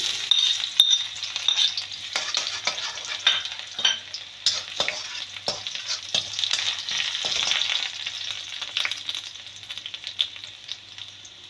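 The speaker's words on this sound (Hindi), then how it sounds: "अब इसमें जाएगा चॉप लहसुन," Chopped garlic sizzles in a hot oiled pan for fish chilli, a steady close frying hiss broken by frequent scrapes and taps of a spoon stirring, with no talking.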